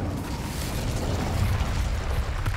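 Incendio fire spell cast in Hogwarts Legacy, a sustained low roaring, crackling burst that stays steady and fairly loud for a couple of seconds, with no talk over it.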